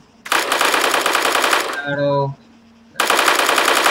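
Sustained automatic M4 rifle fire from Arma 3, a dense rapid burst running nearly two seconds, a short mechanical clatter and tonal pause, then another loud continuous burst.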